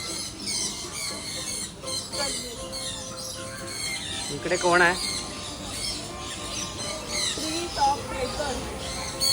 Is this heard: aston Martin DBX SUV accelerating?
no